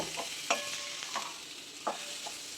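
Tomato and coconut sautéing in a pan for dried-fish curry, a quiet, steady sizzle with a few soft spatula scrapes and taps spaced about a second apart, close up with no voices.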